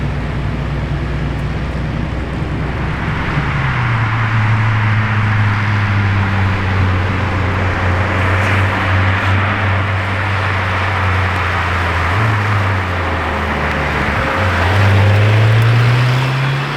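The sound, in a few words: Lamborghini Temerario supercar driving past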